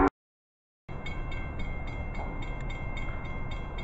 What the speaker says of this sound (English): There it goes, another train.